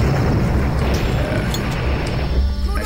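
A deep boom of a dynamite explosion in the Blood shooter, loud and rumbling with crashing debris, followed by lighter game sounds.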